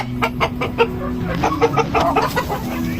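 Chinese chickens clucking close by on a backyard farm, a steady run of short repeated clucks and soft calls layered over one another, with no talking.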